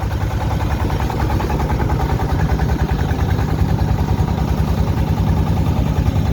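A steady, loud low-pitched engine drone runs throughout with a rhythmic chugging pulse as two trawler boats pass close by on the Meghna River at Bhairab.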